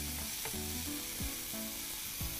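Paneer tikka sizzling on a grill, a steady crackling sizzle running throughout under a faint background tonal hum, close and continuous with no talking.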